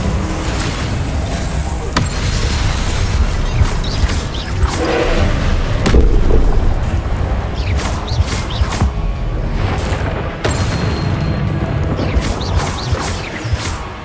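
Spells such as Confringo, Incendio and Depulso are cast in the video game Hogwarts Legacy, giving loud rumbling blasts, crashes and thuds layered into a dense, continuous stream of magical effects with heavy low-end impacts.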